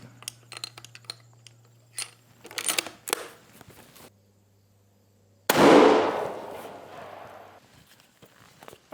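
A deer rifle fires a single shot at an outdoor target range: one sharp, loud report that rings out and decays over about two seconds, preceded by quiet handling clicks and rustling.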